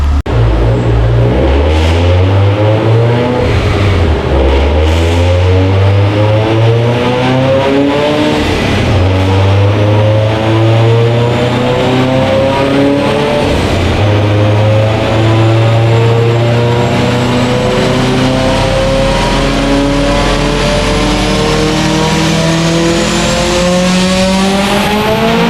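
A Subaru STI engine on a dyno, revving hard through repeated rising pulls; loud, close and continuous, the pitch sweeping upward again and again with no talking over it.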